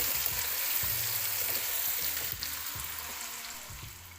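Ground onion-tomato masala sizzles in a pan for kofta curry, a steady close crackle and hiss that carries on without a break.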